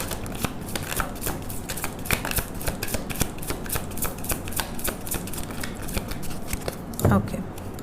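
A tarot card deck is riffled and shuffled by hand, giving a steady rapid flutter of card clicks throughout at close range, ending with a soft thump.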